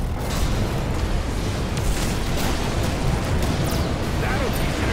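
Airship cannons fire and shells explode in Bow to Blood, a dense, loud barrage of booms and bursts that never lets up, with no pauses between impacts.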